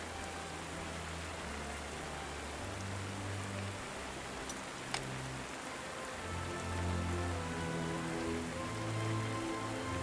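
Steady rain falls on the ground across a battlefield in the strategy war game Panzer Corps 2, a dense constant patter with low rumbling underneath and no voices.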